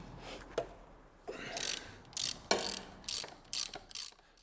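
Ratchet clicking in short bursts while loosening and backing out gearbox mount bolts during a transmission support bearing replacement, several separate rattling runs close by with pauses between.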